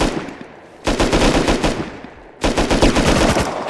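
Automatic gunfire in the video game Rust: two loud, rapid bursts of shots, each lasting over a second, separated by a short lull.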